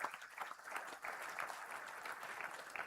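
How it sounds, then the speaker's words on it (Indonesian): A large audience at a formal state address applauds students of a people's school, rhythmic swells of many hands clapping at moderate distance, steady and fairly faint with no speech over it. "Mari kita beri tepuk tangan kepada anak-anak siswa-siswi sekolah rakyat."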